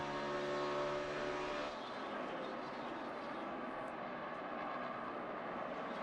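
NASCAR race cars at the 2011 Kobalt Tools 400 in Las Vegas, engines screaming well over 9,000 RPM at about 200 mph; a loud, sustained high-pitched engine roar with layered whine that shifts slightly as cars pass.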